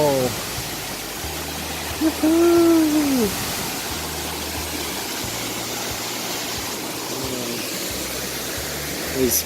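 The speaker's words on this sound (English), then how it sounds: "And we are at the waterfall." A waterfall in secondary Amazon jungle near Puyo, Ecuador makes a constant broad rushing roar of falling water. A brief voice rises over it partway through.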